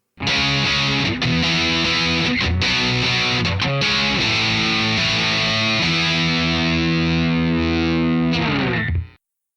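Electric guitar driven through a Dirty Little Secret distortion pedal rings out in thick, saturated chords and sustained notes, loud and close, ending in a held chord that cuts off, with no voices.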